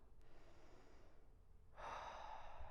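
A slow, deep inhale drawn through the nose during a yoga session, faint and soft at first, then swelling into a louder, airy rush of breath close by, with no talking over it.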